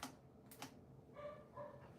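Dogs bark a few times in a house, several short yaps, faint and somewhat distant, with no talking.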